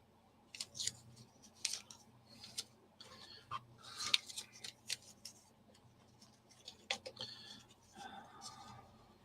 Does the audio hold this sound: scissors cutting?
yes